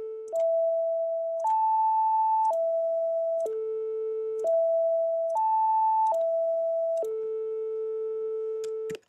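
A steady electronic test tone at 660 Hz, the perfect fifth above the root, sounds in a sequence of sustained pure pitches that step between neighbouring notes about once a second, clean and loud with no voices.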